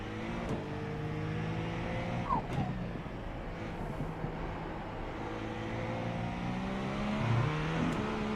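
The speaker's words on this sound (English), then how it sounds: "Lots of more wastegate noises, so they updated the sound" A GTP race car engine in a racing video game drones steadily and loudly, its pitch rising and falling with throttle, with brief wastegate chirps and whooshes cutting in over the continuous roar.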